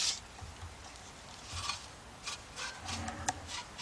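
A rag soaked in carburetor cleaner wipes an engine part during a Chrysler timing cover and timing chain tensioner job, giving soft, intermittent rubbing strokes, quiet and close, with no talking.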